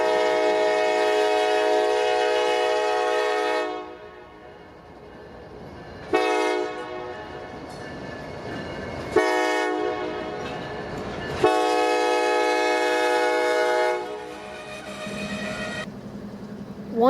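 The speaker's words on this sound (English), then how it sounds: "After about 30 minutes of switching, NS 187 departs for Macon." Norfolk Southern freight NS 187 departing Irondale, Alabama, with long loud multi-tone horn blasts in a repeated pattern, separated by gaps of rumbling wheels and engine noise.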